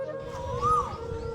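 An Asian koel gives a single faint rising, whistled call in the spring season at a quiet home, set against a steady low hum.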